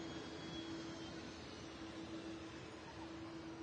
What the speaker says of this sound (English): here goes the Aer Lingus A330-300 series heading off to